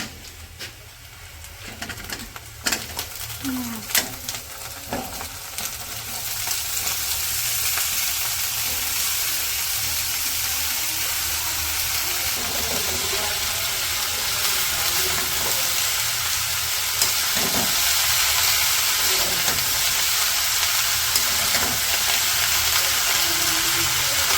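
Vegetables frying in hot oil in a pan in a village kitchen, a steady broadband sizzle that swells louder after a few seconds and continues unbroken, with occasional stirring clatter and faint birds in the background.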